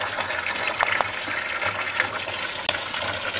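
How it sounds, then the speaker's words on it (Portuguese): Water is poured into a fish tank holding tambaqui fish in the Amazon region, a continuous splashing gush with a few louder bursts and no talk. "Aí eu vou colocar a água."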